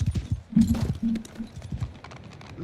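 Several horses clop on the ground as soldiers dismount in Bannerlord, with uneven hoof thumps, nearby and moderately loud, alongside a few low tonal calls.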